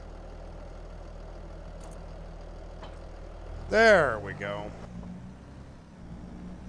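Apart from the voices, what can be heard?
tractor engine in the video game Farming Simulator 22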